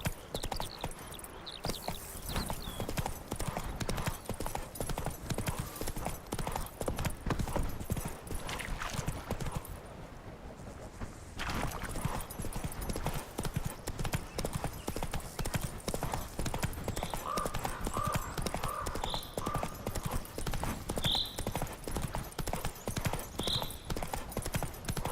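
In The Witcher 3: Wild Hunt the horse Roach trots with a steady, rapid clip-clop of hooves across the whole stretch. The rhythm briefly drops near the middle, then resumes, with a few faint voice sounds over it.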